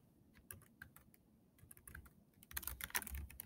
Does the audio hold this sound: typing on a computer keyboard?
yes